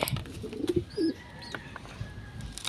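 Pigeons coo softly in a breeding loft, with a few low warbling calls early on over a faint, quiet background.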